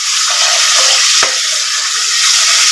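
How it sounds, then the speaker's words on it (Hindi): Spice paste of green chili frying in a pan gives a loud, steady, close sizzle with soft stirring scrapes, alone without talk. "तो हम इस पेस्ट को अच्छे से फ्राई कर लेंगे।"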